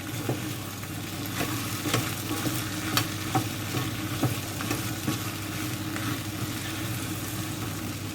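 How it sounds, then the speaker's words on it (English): A spoon stirs a leek and potato soup base with black pepper and garlic in a hot pan, steady sizzling under a run of sharp scraping clicks that repeat every second or so, close and fairly quiet, with no talk. "Give that a stir."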